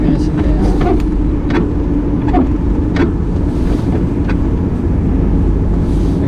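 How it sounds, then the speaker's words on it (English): A car's defrost heater vent in a 1993 Chevy Z28 blows air at a GoPro 5 about a foot away, a steady, close, rushing roar with a few faint clicks scattered throughout. "GoPro sitting about 1 foot away from my heat vent, my defrost vent"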